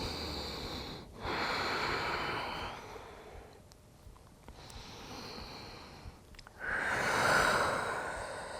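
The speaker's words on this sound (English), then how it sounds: "Take a couple breaths here." A person breathes slowly in a yoga forward fold, with several long, close, airy inhales and exhales, the last one heavier, and no talking.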